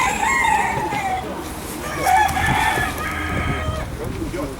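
Brahma roosters crow loudly and repeatedly at a poultry fair, their long calls overlapping, with hens clucking and farmyard noise in the background.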